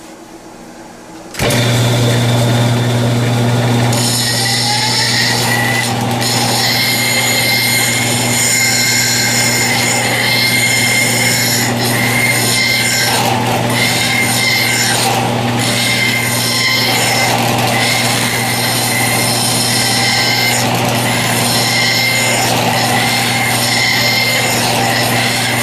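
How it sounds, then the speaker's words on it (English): An ordinary hand file works a tailstock chucked up in a lathe, giving a steady, loud rasping scrape that runs without a break after a quiet start. "We're going to use just an ordinary file."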